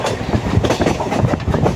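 Steady rumble and rhythmic wheel clatter of a train pulling out of Roha station on the Konkan Railway, heard close and loud with no voices.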